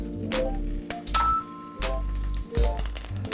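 Fish cooking meunière-style in a pan of rich 82% fat butter, a steady close sizzle and frying crackle running continuously with a few louder bursts.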